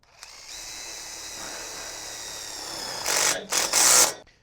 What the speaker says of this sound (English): we're using self-tapping screws to go through the center of the channel into the bow